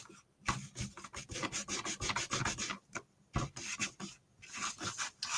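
Small plastic pieces from a paper-crafting kit are rubbed together to clean off residue, making quiet, close, rhythmic scrubbing strokes in short repeated bursts with brief gaps between them.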